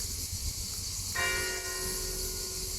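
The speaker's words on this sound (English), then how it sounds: "The bells, you've missed the bells, haven't you?" Distant church bells ring with a sustained metallic tone over constant high cicada hiss.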